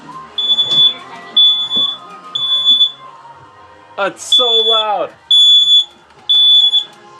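Smoke alarm set off by vape clouds sounds in repeated loud high-pitched beeping bursts, with people talking and exclaiming over and between the beeps.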